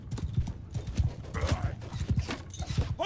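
Horse hooves clip-clop in steady, overlapping beats in Mount and Blade Bannerlord, a medieval battle game with soldiers and Imperial cataphracts, fairly close and continuous with faint background murmur throughout.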